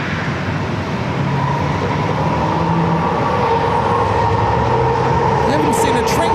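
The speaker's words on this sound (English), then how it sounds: "You're hearing the light rail going through." A light rail train rolls past close by near San Diego airport, a steady loud rumble with a sustained metallic hum that holds evenly throughout.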